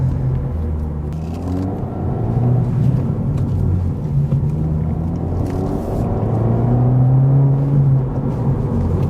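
A Honda Civic Si sports sedan drives over bumps and imperfect road, its engine a steady low rumble and whir from inside the cabin, loud and continuous with no talk.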